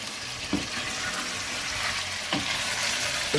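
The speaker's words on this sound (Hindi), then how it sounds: "अब इसको मैं इसी के अंदर भूनूंगा अच्छी तरह से चिकन को।" Chicken pieces seasoned with salt and turmeric fry in a pan with a steady, fairly loud sizzle, while a spoon stirs through them in a few distinct scraping strokes.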